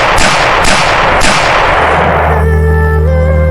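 Three loud, sharp gunshot bursts ring out in quick succession, each with a ringing decay, then a steady droning tone takes over.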